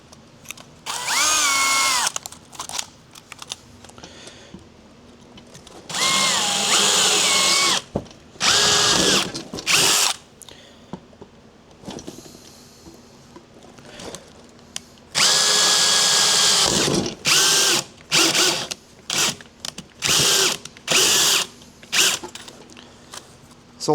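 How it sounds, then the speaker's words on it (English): A power drill with a worn chuck bores three holes while a car's dipstick blowing out is being fixed, running in loud whirring bursts of a few seconds each, split by short stops and brief blips of the trigger. "Yeah, we'll just drill those 3 holes."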